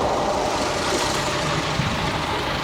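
A classic bull nose car engine runs as the car prepares to set off on a pre-1960s vehicle run, a steady loud mid-pitched engine drone throughout.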